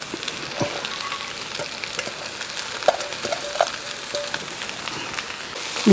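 Egg being scrambled in a hot pan with a steady crackling fry and intermittent spatula scrapes and taps, close and without voices.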